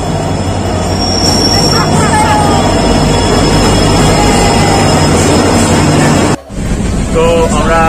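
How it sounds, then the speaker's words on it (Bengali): A train pulling into a station on the way to Siliguri, a loud, steady rumble of rolling cars with high wheel squeals near the platform and voices underneath. "তো আমাদের ট্রেন চলে আসছে এখন"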